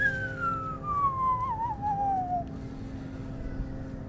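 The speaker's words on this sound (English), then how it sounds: "you can hear that fucking bomb flying in," A single descending whistle sweeps downward over about two and a half seconds as a bomb flies in during live war footage from Israel and Palestine, clear above a steady low rumble, with no voices.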